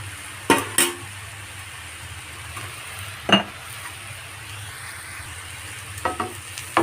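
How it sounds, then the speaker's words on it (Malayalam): Spoon stirring a drumstick leaf mixture with salt in a frying pan, a few sharp scraping knocks over a low, continuous sizzle, close and alone. "എല്ലാം ഇളക്കി കൊടുക്കാം കേട്ടോ"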